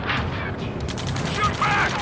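Continuous gunfire in the Ace Combat 7 video game, a dense, loud rattle of rapid shots under shouted radio voices.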